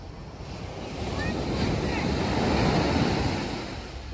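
Big ocean waves surging at night beside a beachfront resort in Dubai, a broad rushing roar that builds and swells through the middle, with steady wind buffeting the microphone.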